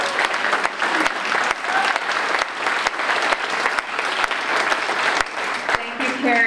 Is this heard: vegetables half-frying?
no